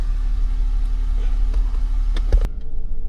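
A 2016 Jeep Wrangler rolls along at low speed with a steady engine hum and road rumble, and a couple of brief knocks near the end.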